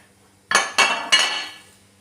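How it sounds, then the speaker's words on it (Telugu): A cooking pan lifted off the stove in a home kitchen while making appam egg curry, heard as three quick metallic clanks in close succession, each ringing briefly and fading, close and fairly loud, with no talk. "ఇప్పుడు ఈ ప్యాన్ అయితే తీస్తున్నాను"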